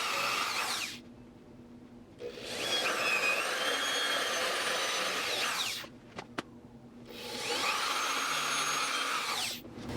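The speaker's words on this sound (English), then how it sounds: "Okay, time for the drilling." A power drill bores into wood while building a lazy Susan, running in two long sustained bursts with a short pause and a couple of quick clicks between them, loud and close with no talking.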